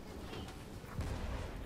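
Ship cannon fire in the pirate naval game Blazing Sails, a muffled low boom rising about midway through after a stretch of quieter rumble, with no talk.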